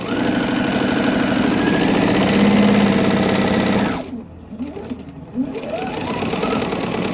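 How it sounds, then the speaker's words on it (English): A sewing machine stitches a half square triangle quilt seam, a steady close mechanical whirring hum for about four seconds, then stopping briefly before quieter handling noises and a resumed hum. "we want to be careful here that the seam underneath isn't going to flip while I'm sewing"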